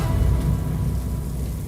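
Steady rain pours down in a dense, even hiss with a low rumble underneath, with no voices over it.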